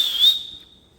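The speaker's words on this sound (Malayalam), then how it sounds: "വിസിൽ." A whistle is blown once in a short shrill blast that tails off quickly into quiet, loud and close.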